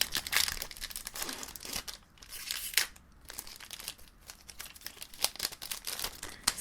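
Pokémon Sword and Shield booster packs are torn open and handled, giving close, quiet crinkling foil and crisp tearing bursts in an irregular flurry with no voices.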